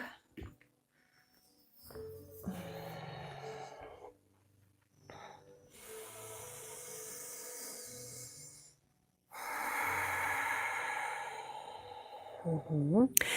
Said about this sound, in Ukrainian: Дихаємо, вдих, видих.